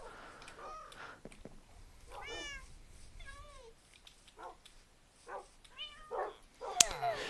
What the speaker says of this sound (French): Oh, et les petits chatons qui miaulent.